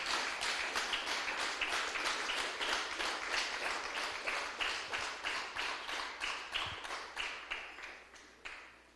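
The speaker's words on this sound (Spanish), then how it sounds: "Denle un fuerte aplauso al Rey, aleluya." A church congregation claps in unison for the King, a quiet, distant and evenly spaced rhythmic beat that holds steady and then slowly fades away.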